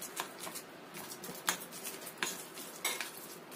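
Onion, spring onion and chicken are stirred together in a bowl for dumpling filling, giving soft wet scraping and clicking with a few sharper utensil knocks against the bowl, close and quiet.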